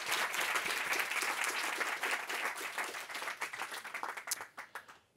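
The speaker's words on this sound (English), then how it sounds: "Maybe start off by another round of applause for." An audience applauds at the close of a series of three lectures, dense clapping from a crowd that holds steady, then thins and tapers off toward the end.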